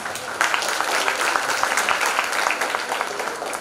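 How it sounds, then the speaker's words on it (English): An audience at a school annual exhibition gives a loud round of applause for a student performance, dense steady clapping throughout, close and sustained with no talking. "loud round of applause."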